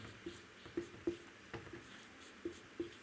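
Marker or chalk writing the word hemoglobin on a board gives about six soft taps and short scratching strokes at irregular intervals, faint and close in a quiet room.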